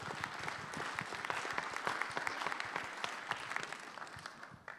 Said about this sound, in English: I'd like a quick round of applause for Dave and the direct supply team